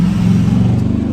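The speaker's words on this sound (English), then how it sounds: "it's a car driving by" Loud engine rumble of a car passing close by, a deep steady roar that fills the moment with no voices over it.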